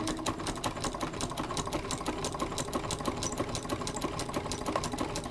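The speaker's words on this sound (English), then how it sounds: "I'm sewing standing up with all things in the way." A sewing machine runs steadily, stitching a quilt sashing strip down its edge, with a fast, even mechanical chatter that is close and continuous throughout.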